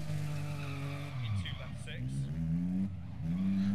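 In the Dirt Rally racing game, a rally car's engine drones with shifting pitch as the tyres scrabble and skid on loose surface, steady and close, while someone talks over it.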